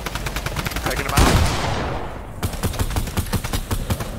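Gunfire in the Fortnite battle royale video game: rapid, repeated loud shots in quick bursts, with a brief sweeping whoosh in the middle before the shooting resumes.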